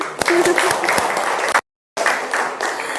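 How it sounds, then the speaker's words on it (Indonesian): A classroom of students claps enthusiastically with some voices mixed in; the clapping cuts out briefly, then resumes. "Tepuk tangan."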